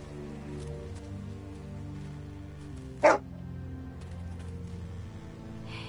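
A single short bark from a dog in The Walking Dead: Season 2 video game, cutting sharply through a quiet bed of low music and rain-like ambience.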